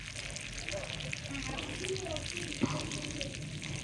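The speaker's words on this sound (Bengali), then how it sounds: "আর মাছটা প্রায় ভাজা হয়ে গেছে।" Spiced fish frying in a pan, a moderate steady sizzle with one brief clink of a utensil partway through.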